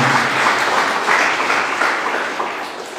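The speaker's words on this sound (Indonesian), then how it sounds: "tepuk tangan buat Tuhan" Church congregation clapping for God during a sermon: a steady, dense wash of applause across the hall, holding loud and fading slightly toward the end, with no talk over it.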